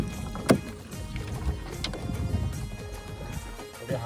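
Small rowing boat on a creek during a crab-fishing trip: irregular wooden knocks and oar splashes over faint water lapping, with a sharp thump near the start and wind in the background.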